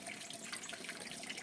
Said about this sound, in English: Open out the waterfall at the bottom,